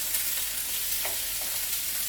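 Chorizo sizzles steadily in a paella pan while being stirred, a loud, continuous frying hiss with soft scraping of the stirring, no voices.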